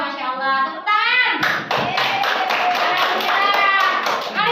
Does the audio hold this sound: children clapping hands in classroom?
yes